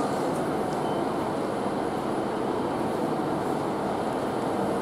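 A GWR Class 150 diesel train departing Exeter St Davids, a steady, loud low rumble and broadband hiss of the engine and wheels that holds constant throughout, with no voices.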